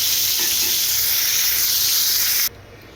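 Cauliflower pieces fry in hot oil with a steady, loud hissing sizzle that cuts off abruptly near the end, leaving a faint quiet background.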